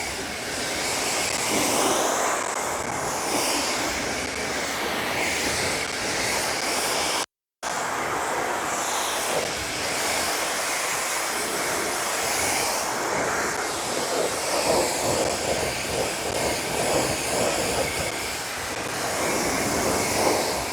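Pressure-washer water spraying onto dirty car wheels crusted with salt and road grime, a steady loud broadband hiss that runs almost continuously, broken only by one brief cutoff.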